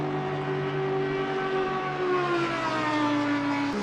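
GT3 race car engines in Assetto Corsa Competizione at Spa, a steady loud droning engine note with sustained harmonics that dip slightly in pitch, partly lifted off rather than at full power, then a brief shift near the end.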